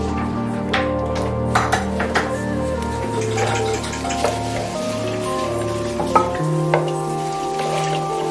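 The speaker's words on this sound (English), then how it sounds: "Gonna put this all into a pan, stir fry it together" Bell pepper, zucchini, green onions and shrimp stir frying in a pan, a steady sizzle with occasional clinks of a utensil against the pan, under background music.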